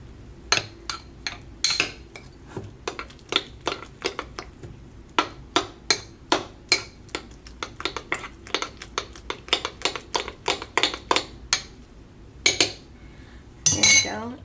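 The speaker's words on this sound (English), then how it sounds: "Just mix it around." Utensil scraping and clinking against a bowl while vegetables are mixed for fermenting, a steady run of quick, sharp taps over many seconds, close, ending in a louder clatter.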